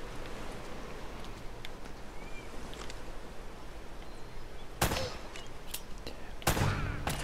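Gunfire in the video game Uncharted: Drake's Fortune, with two loud, sharp shots late in the clip and a few fainter pops earlier over steady rain-like background noise.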